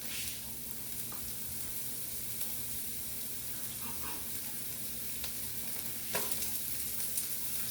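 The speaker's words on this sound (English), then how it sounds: "we're going to saute this for a couple minutes" Onion sautéing in a hot pan gives a steady, close sizzle with a constant hiss running throughout, plus a few brief clinks and scrapes of a utensil stirring. No one speaks.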